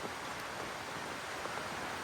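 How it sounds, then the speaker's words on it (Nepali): Heavy rain pours down outdoors around someone spending a day up in a tree, a dense, steady hiss with no pauses or voices for about two seconds. "कत्रो पानी परिरहेछ भने हेर न"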